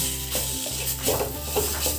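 Coarsely ground amla chutney sizzles steadily in a hot pan while a spoon stirs and scrapes through it, with a few soft knocks against the metal.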